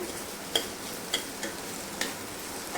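A spoon stirring kantoli (spiny gourd) vegetable with beans as it steams in a pan, a soft sizzle with a few light scraping taps at irregular intervals, close and fairly quiet, with no talking.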